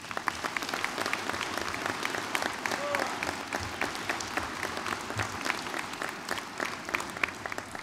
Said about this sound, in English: you should give a great round of applause to Vin Cullen